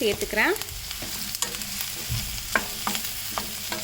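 Mushrooms frying in a pan with softened onion, stirred with a spatula in repeated scraping strokes over a steady close sizzle, no talking.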